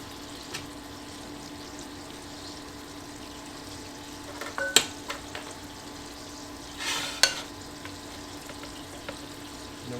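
Food cooking in a pan with cream cheese added, a soft steady sizzle running throughout, with a few brief clinks and stirring scrapes around the middle.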